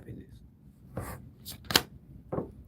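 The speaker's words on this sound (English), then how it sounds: "All of that shuffling." A deck of tarot cards is shuffled by hand, several short, crisp riffling and slapping bursts spaced irregularly and close up over quiet room tone.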